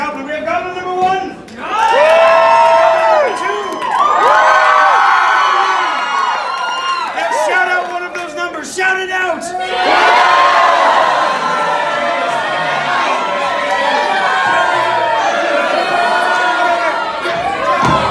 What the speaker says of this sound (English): Now, while you deliberate, audience, cheer for your favorite goblin.